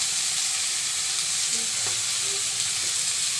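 Tengra fish frying in a pan while cooking a light curry with pointed gourd and potatoes, a steady broadband sizzle holding level throughout with a few faint clinks of a utensil, no talk.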